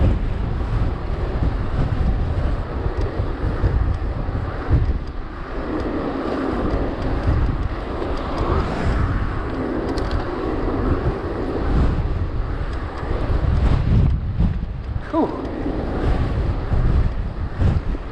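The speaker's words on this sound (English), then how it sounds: "it's pretty windy up here." Strong wind buffets the microphone on a high, exposed bike ride around Bournemouth, a steady, heavy low roar with gusty surges throughout, no voices.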